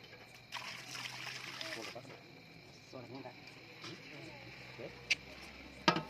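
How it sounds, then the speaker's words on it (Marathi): Water pours into a cooking pot of pasta in a short, splashy stream, followed by quieter trickles and a few sharp clinks, with a voice talking. "पास्ताच्या वर येईपर्यंत पाणी टाकलं जातं"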